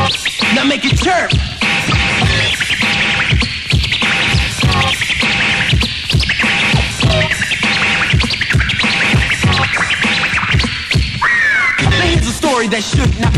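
DJ record scratching on a turntable, pitched to mimic bird chirps, in a 1986 radio hip-hop mix: rapid, dense scratches and squeaky chirping sweeps over a steady beat throughout.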